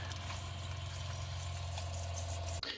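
A reverse osmosis water filter's motor runs with a steady low electric hum and gurgling water, continuous until a brief click near the end, no voices.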